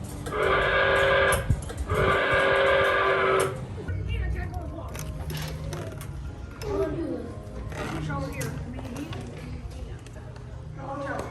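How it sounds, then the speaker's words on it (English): Two long, loud train whistle signals sound close by for a crossing, separated by a short pause, followed by people talking. "The train is approaching a crossing. 2 long sounds, a short sound, a long sound."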